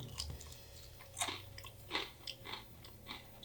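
Crunchy chocolate chip cookies get bitten and chewed up close, with several sharp, crisp crunches spaced out over a few seconds against a quiet background.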